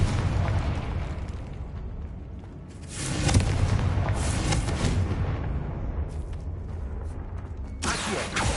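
A Confringo blasting curse goes off in Hogwarts Legacy, a sustained rumbling boom with creaking mechanism noise in a dungeon-like setting, swelling around the middle and flaring again near the end, loud and dense throughout.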